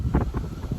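Wind buffets the microphone in low, rumbling gusts, loud and close, with no other clear sound.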